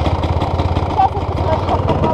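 A moped engine idles with a steady, pulsing low putter, close and loud throughout, while people talk over it.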